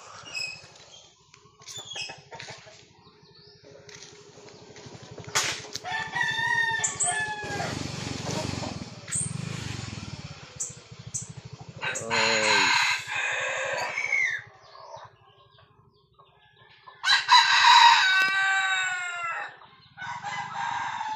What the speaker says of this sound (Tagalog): Tilaok na.